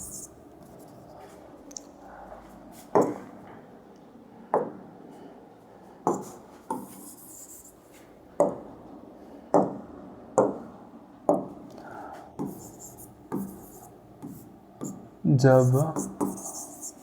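Chalk taps and strokes on a board in a physics classroom, a series of distinct knocks spaced every second or so, heard under a teacher's ongoing speech.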